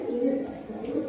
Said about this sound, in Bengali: শুধু পায়রা যে নামছে তা নয়, পায়রাগুলো দেখুন